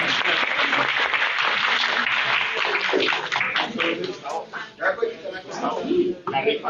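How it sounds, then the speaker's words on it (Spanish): Audience at a panel discussion on public innovation breaks into applause, loud and dense at first, then thinning into scattered claps, with some voices mixed in toward the end. "Un aplauso."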